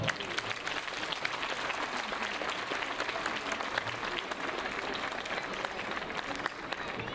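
A crowd gives warm, sustained applause after a Scottish folk piece on bagpipes at an alpine brass band concert, the clapping thick and even throughout.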